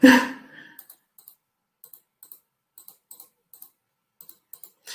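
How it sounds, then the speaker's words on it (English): Small mouse or clicker clicks come in quick pairs and singles at irregular intervals while presentation slides are changed during an online talk. The clicks are faint and close, over near silence, after a brief breath or voice sound at the start. "Apologies, just clicking."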